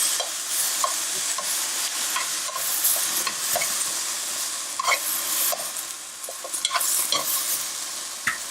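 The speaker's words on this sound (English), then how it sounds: "And I'm going to just add maybe about a tablespoon of soy sauce." Soy sauce, about a tablespoon, hitting a hot pan of scallions: a steady, close frying hiss, broken by scattered crackles and utensil clicks as the pan is stirred, with no voices.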